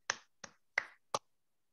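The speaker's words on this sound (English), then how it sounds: "I'll clap for everyone" Four single claps from one person, sharp and isolated, spaced about a third of a second apart in a quiet room.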